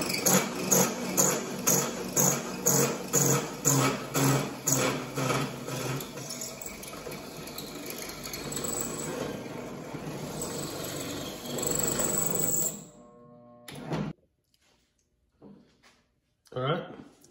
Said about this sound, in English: now it's drilled all the way through